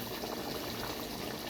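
Mutton biryani bubbles in the pot as its water cooks off, a steady, close hiss of fine bubbling with no talk over it.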